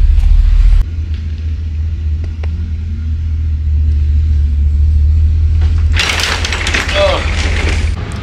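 The engine of a running U-Haul truck gives a loud, steady low rumble throughout. Rustling and other noises join in near the end.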